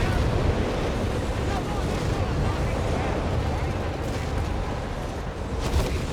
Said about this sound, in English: More Nebelwerfer fire there out of Redwings Nebelwerfer battery